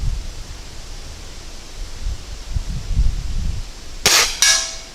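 A Sig Sauer air rifle fires a Match pellet at a 50-yard target: one sharp, loud crack near the end, quickly followed by a second snap, after low rustling handling noise.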